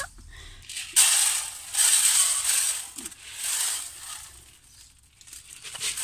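Grain pours and rattles in bursts as chickens are fed in a garden, a dry hissing clatter that swells and fades several times, close by with no talking.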